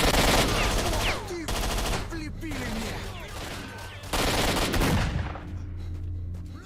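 Gunfire in STALKER: Shadow of Chernobyl comes in loud, close, rapid bursts of automatic shots separated by brief pauses, with other game sounds mixed in.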